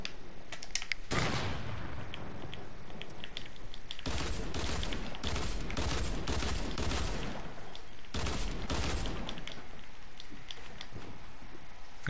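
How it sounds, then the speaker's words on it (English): Fortnite gunfire comes in loud, dense bursts of rapid shots with short pauses between volleys, filling the scene with heavy noise. "Stop shooting me."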